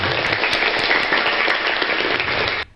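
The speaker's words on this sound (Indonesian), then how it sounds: "Ketawa dan tepuk tangan." A crowd applauds with dense, loud clapping that holds steady for a couple of seconds, then cuts off abruptly.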